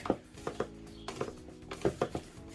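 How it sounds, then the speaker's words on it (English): Dry homemade garri made from cassava being sieved, a series of soft, close tapping and rustling knocks in an uneven rhythm, moderately loud and alone. "So I'm going to sieve it now."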